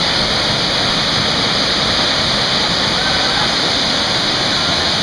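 A Finger Lakes waterfall gives a loud, continuous broadband rush of falling water, steady and close with no break.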